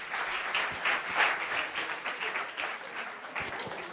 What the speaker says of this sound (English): Please give a big round of applause to Ms.